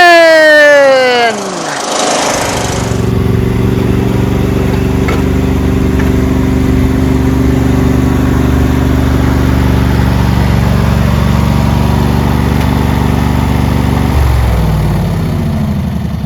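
A Craftsman LT1000 riding lawn mower engine, a Briggs Intek V-twin, runs at a steady, loud idle after a rising start-up, its even drone holding for several seconds before the pitch shifts near the end.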